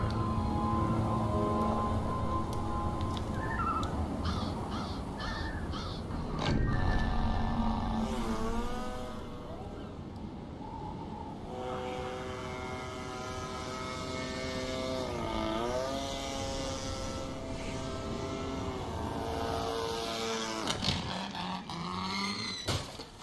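An engine whines steadily in the Secret World Legends video game, a plane motor droning throughout with pitch swoops and bends, a brief louder burst midway and a sharp crackle near the end.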